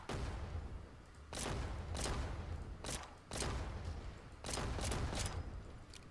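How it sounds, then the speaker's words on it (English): Bursts of explosions like little fireworks in the video game Lemuria, with loud, repeated blasts and crackling volleys coming in several waves over a steady rumbling backdrop. "It's like little fireworks."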